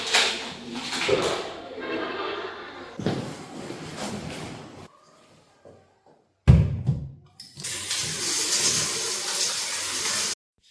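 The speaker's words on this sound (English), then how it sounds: "Rinse the rice several times" Rice is rinsed in water by hand, splashing and sloshing in bursts separated by a pause of near silence, then a louder rush of water swirling and draining.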